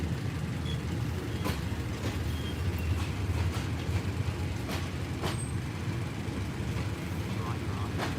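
A passenger train running on the rails between Bangkok and Ayutthaya, Thailand, gives a steady low rumble and rattle of carriage noise from inside the car, with occasional sharp clanks and faint background voices.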